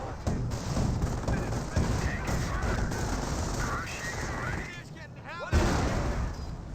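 Bombs falling onto Hetzer tank destroyers in Company of Heroes, heard as a loud battlefield roar of gunfire and explosive crashes, with a whistling descent near the end followed by a heavy blast, and scattered gunfire continuing throughout.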